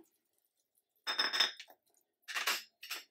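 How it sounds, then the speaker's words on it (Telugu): Mustard seeds, a teaspoonful, tipped into a pan while making a ridge gourd chutney: two or three short bursts of bright, rattling clatter split by silence, close and crisp. "ఇగో ఆవాలు 1 టీ స్పూన్ వేస్తున్నా"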